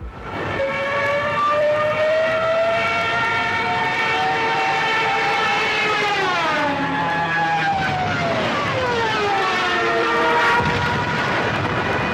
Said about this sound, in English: The bombers were notorious for sounding alarms moments before destroying whatever was in their path.